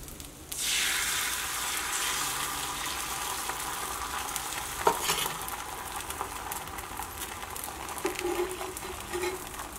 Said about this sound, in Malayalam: ഇനി നമുക്ക് അടുത്ത മുട്ട ഒഴിച്ചു കൊടുക്കുക